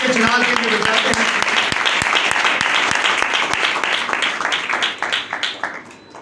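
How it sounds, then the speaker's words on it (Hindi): Church congregation claps loudly during a Hindi-language preaching service, a dense rhythmic burst of applause with sharp individual claps that fades out toward the end. "आइए जोरदार तालियां खुदा के जलाल के लिए बजाते हैं।"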